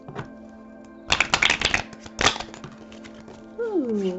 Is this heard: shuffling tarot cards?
yes